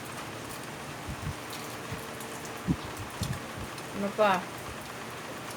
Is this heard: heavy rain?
yes